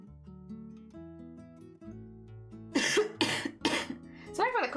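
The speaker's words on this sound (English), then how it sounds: "Sorry for the coughing, by the way." A person gives several harsh, close coughs in quick succession, loud against quiet background music, in a chilly room.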